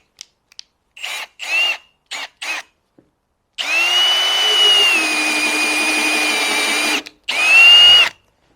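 A freshly sharpened drill bit is tried out: several short power-drill bursts with a whining motor, then a long sustained run of a few seconds and one more burst, loud and close.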